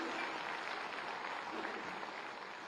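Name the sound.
loud applause welcoming guests on stage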